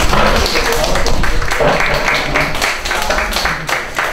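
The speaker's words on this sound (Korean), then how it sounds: "박수." An audience in a lecture hall applauds, dense loud clapping filling the whole stretch without letup.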